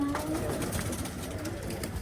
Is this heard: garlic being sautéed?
no